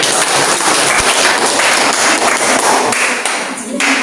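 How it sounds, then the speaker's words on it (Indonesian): Students in a classroom clap their hands together, a dense, lively patter of claps with occasional sharper taps and thumps, fairly close and loud, tapering slightly toward the end. "Ya, tepuk tangan."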